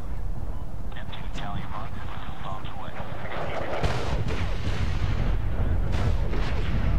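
Heavy bomb blasts and artillery-like booms rumble in Medal of Honor, with a deep low impact partway through amid continuous battle noise and radio-style voice chatter.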